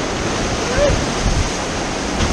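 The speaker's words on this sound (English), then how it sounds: "There's some splashes in there." Rushing white water on the Sauk River rapids during a rafting trip, a loud continuous splashing roar close to the microphone with wind buffeting.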